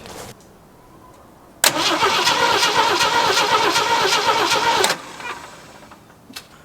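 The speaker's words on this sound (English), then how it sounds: "We're going to see if it's going to crank." A 1974 Jeep CJ5 engine cranks loudly and steadily on its starter for about three seconds without catching, then cuts off, leaving quiet shop background.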